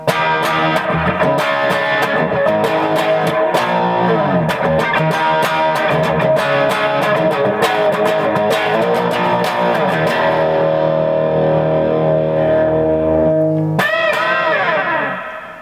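Brighter, more biting electric guitar tone from the bridge pickup of PAF-style humbuckers, busy strummed and picked phrases with reverb and light drive, ending on a sustained chord.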